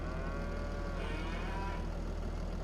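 Cattle in the video game Farming Simulator give a drawn-out low moo over a constant rumble of an idling farm vehicle engine, close and steady, with no one talking.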